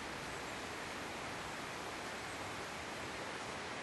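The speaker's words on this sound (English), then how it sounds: "We can still see and hear the river" The river near High Force and Low Force on a Teesdale country walk round Middleton in Teesdale makes a continuous, even broadband rush of flowing water with no voices.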